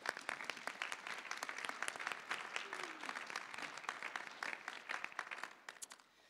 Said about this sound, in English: Melly, would you please stand for one more round of applause?